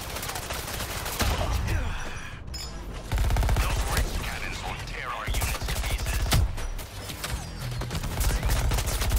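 Rapid bursts of gunfire in the video game Suicide Squad: Kill the Justice League crackle loud and close, with automatic volleys nearly continuous and brief pauses between them, over faint game voices.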